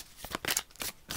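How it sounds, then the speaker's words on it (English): A tarot card deck being shuffled up close, giving a few short papery riffling bursts in quick succession with no talk. "I'm going to be shuffling the tarot deck"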